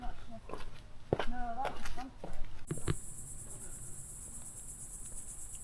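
Crickets chirp near a lake in Germany, a steady, high, pulsing chorus that rises clearly once some brief voices and rustling at the start die away.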